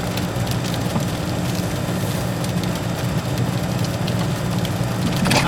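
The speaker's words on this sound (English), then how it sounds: "Well, now it's turning into sleet." Sleet falling steadily outdoors during a snow plow job, a dense, continuous hiss and patter that stays loud and even throughout, with a low rumble underneath and no voices.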